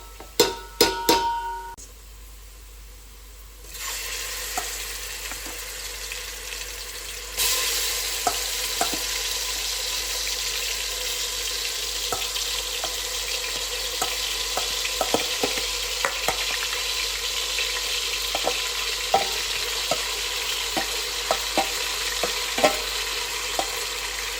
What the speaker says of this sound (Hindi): हम अपना मैरिनेटेड चिकन इसमें डालेंगे।